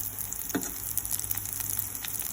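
Chicken nuggets frying in hot oil for sweet and sour chicken, a steady close sizzle with small crackles and one brief louder pop.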